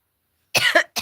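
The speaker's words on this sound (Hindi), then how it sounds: "खांसी से परेशान हो जाते" A single cough bursts out abruptly after silence, with a second short cough starting right behind it, close and fairly loud, at a live Awadhi folk song session.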